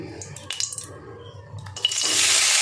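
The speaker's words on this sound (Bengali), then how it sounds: "এবার আমি প্রথমে কাজুটা ভেজে নেব।" Cashews drop into hot ghee: a few soft clinks and light splashes build into a bright, steady sizzling hiss that swells near the end.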